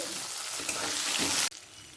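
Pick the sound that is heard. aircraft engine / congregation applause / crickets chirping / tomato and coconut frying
tomato and coconut frying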